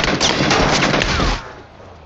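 Dense, loud automatic gunfire in a video game battle, a continuous rattling fusillade lasting over a second before cutting off into quieter background noise with a last faint thump.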